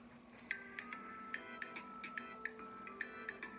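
Phone ringtone played from a smartphone's clock app, a repeating pattern of bright chiming tones at a steady rhythm, fairly faint and alone over a low background hum.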